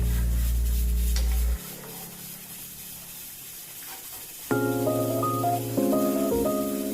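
Fish curry with eggplant pieces is stirred slowly in a pan, giving a soft scraping and bubbling simmer. Steady tonal hums come and go over the cooking sounds.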